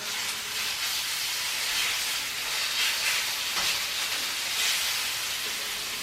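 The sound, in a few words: pork chops sizzling in hot pan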